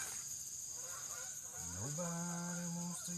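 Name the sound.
geese honking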